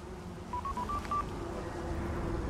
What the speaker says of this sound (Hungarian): Ott csörgött a telefonom.